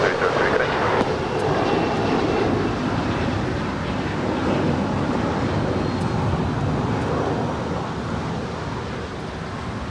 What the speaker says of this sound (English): the Skylease Cargo 747 is the next departure on 25 right